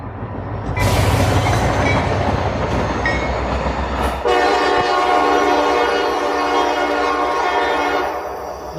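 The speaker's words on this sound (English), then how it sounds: "Must be short train day." A short train rolls past close by with loud rumbling and rattling wagons, then its horn sounds in long sustained blasts through the second half before fading slightly at the end.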